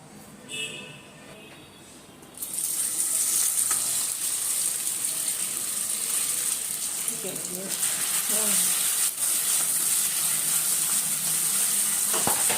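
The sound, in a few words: vegetables frying in oil in a pan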